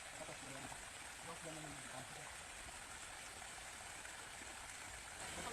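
A stream of water flows steadily, a constant broad rushing and gurgling close by, with faint voices under the running water.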